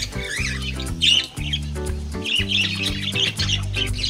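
Pet parakeets, a cock and a hen in a backyard, squawk and chirp loudly up close in rapid harsh bursts, with dense chattering calls overlapping throughout.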